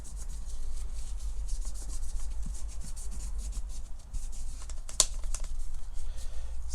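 Steady rubbing and scrubbing against a Louis Vuitton piece during cleaning and restoration, a continuous close abrasive swish with one sharper scrape near the end, no voices.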